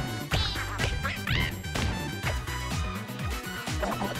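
Cartoonish birds quacking in the rhythm game Rhythm Heaven Fever, a run of bright, nasal quacks set against bouncy game sounds and thuds, loud and close.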